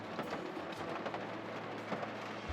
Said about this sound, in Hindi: सारी रात से बारिश हो रही है और कंटिन्यूस बारिश हो रही है।